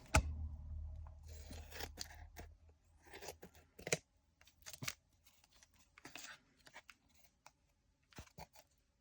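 Scissors cutting cross stitch fabric for a coaster, a close series of soft snips and crunchy rustles in irregular bursts with quiet pauses between, no talking.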